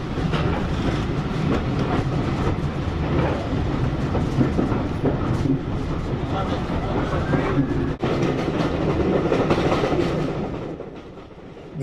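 A heritage train runs on the Nene Valley Railway through countryside, with a continuous loud rumble and rhythmic wheel clatter heard up close from on board, a faint squeal near the end as the noise eases.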